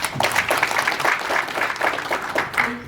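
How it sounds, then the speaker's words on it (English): A round of applause from a crowd, steady clapping that fills the whole moment without talking. "Let's clap again for Joan."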